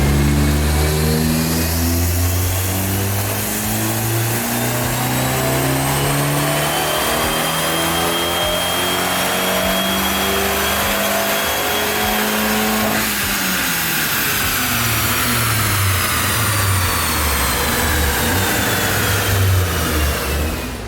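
An Abarth 500 with a new intake screams through a full-throttle dyno pull in fourth gear. The loud, close engine note climbs steadily in pitch for about thirteen seconds, then drops off sharply and winds down.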